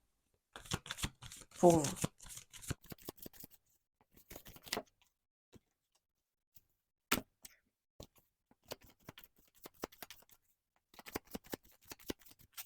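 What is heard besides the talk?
shuffling tarot cards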